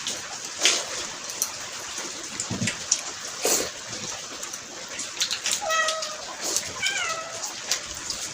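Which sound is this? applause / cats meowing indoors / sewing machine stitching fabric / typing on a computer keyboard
cats meowing indoors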